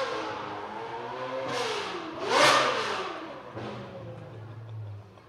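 A Ferrari 458 GT2 race car engine revs hard at a live show, with a sharp screaming peak midway and further revs amid crowd noise.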